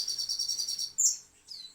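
High, thin chirping calls from a crow nestling, a rapid series of short cheeps followed by two louder separate squeaks, close and alone with no talk.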